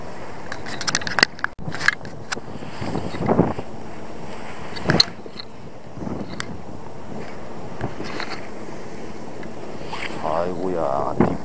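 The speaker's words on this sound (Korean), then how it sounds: "바람 불어서 딴 데 가서 해야 돼" Strong wind at sea during lure fishing for sea bass and octopus buffets the microphone in a steady roar with gusty bumps, while someone talks over it.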